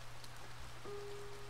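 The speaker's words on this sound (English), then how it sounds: "Oh, it's raining" Soft, steady patter of rain in the video game A Bird Story, quiet and continuous, with a low hum underneath and a faint tone entering partway.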